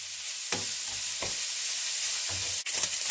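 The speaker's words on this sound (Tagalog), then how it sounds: "So ngayon, tutustahin ko lang muna siya. Saka ko igisa." Food toasting in a frying pan before sautéing for a home-style pechay dish: a steady, close sizzle with a few scraping stirs of a utensil in the pan, and no talking.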